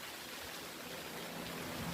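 Steady rain falls outside a garage, a faint, even hiss of water with no pauses and no voices.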